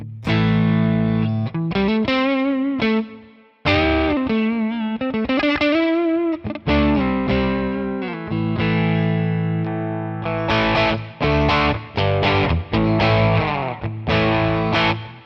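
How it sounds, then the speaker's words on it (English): Electric guitar through a Mesa Boogie low-gain transparent overdrive pedal, modeled on Tonex, playing chords and melodic lines, warm and slightly crunchy, with sustained notes and brief pauses between phrases. "I'm going to add in a Mesa Boogie Clio, which is kind of a low gain, transparent overdrive."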